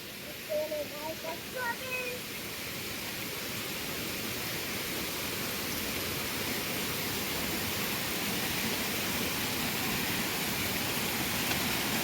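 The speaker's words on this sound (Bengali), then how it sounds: "শুধু ঝর্নার আওয়াজ কল কল কল কল করে ঝর্নার" Rushing water from a fast-falling waterfall in a quiet hill area makes a dense, steady roar from start to finish, with a brief voice near the start and nothing else.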